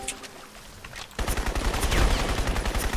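Gunfire in the Crysis multiplayer video game, starting abruptly after a quiet moment and continuing as a loud, rapid burst of shots that holds dense and steady to the end.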